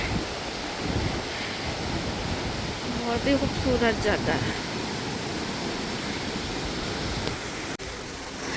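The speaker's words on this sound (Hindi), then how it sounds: "एक तो ये पानी की आवाज़ दिल को इतना सुकून देती है" Siran River flowing below green mountains in a Pakistani valley, a continuous broadband rush of water close by that fills the whole scene, while someone speaks briefly over it.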